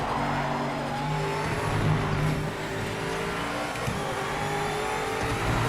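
A GTE race car in the Project Motor Racing video game drones steadily through corners, its engine note holding a continuous loud roar with slight swells under acceleration and no speech.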